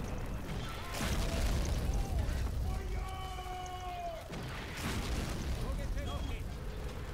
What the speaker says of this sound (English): The flak is so strong against them.